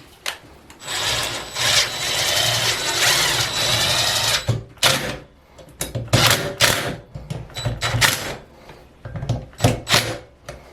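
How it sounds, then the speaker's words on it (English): Power tool driving screws to reassemble a Pfister shower cartridge and trim, with bursts of whirring and grinding, short stops and restarts, close and fairly loud. "use the power tool to screw it back together"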